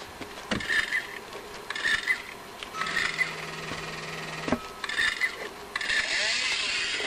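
The motor of a BFC 5000 chainsaw in the Gun Club 2 video game starts up: several short buzzing bursts, then a steadier running drone.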